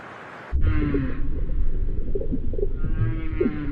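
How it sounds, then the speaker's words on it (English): Humpback whale song rises suddenly after a short quiet stretch, with deep moans and higher tonal calls that swoop in pitch, echoing and loud, heard alone with no talk. "It was long assumed that the purpose of whale music was only to attract a mate."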